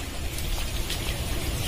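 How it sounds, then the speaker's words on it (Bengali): Heavy rain falls steadily outdoors, a dense continuous wash of drops with no pauses, fairly loud and close. "খুব বৃষ্টি পড়ছে।"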